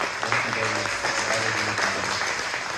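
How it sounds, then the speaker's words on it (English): A crowd claps in a dense, continuous patter of applause, steady and moderately loud throughout, at a city council candidate forum in Sacramento. "he deserves a huge round of applause"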